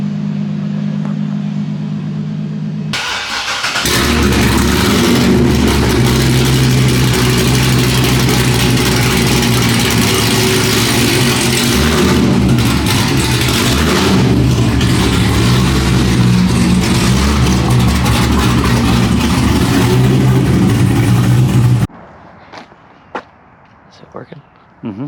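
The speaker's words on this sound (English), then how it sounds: "straight pipe LS3 with long tubes, X pipe is pretty loud. This thing sounds insane now." A loud straight-piped LS3 V8 in a C6 Corvette Grand Sport, with long-tube headers and an X-pipe, runs raw and throaty for about twenty seconds, rumbling and rising in revs, then cuts off abruptly into quieter background noise.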